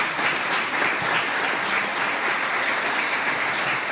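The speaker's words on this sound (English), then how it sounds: "Can y'all give him a round of applause" A crowd at a community event applauds a man being honoured, a dense, even wash of many hands clapping continuously at close range with no speech over it.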